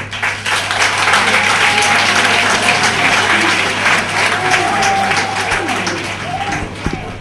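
Sustained, dense applause from an audience at a political commemoration ceremony, steady and loud throughout with some crowd voices underneath.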